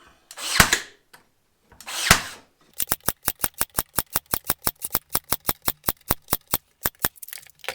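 A brad nailer drives roughly 1¼ to 1½ inch brads into the bottoms of wooden beehive frames. The clip opens with two separate long hissing strokes, then a rapid run of about twenty sharp, evenly spaced close-up shots, with no talking.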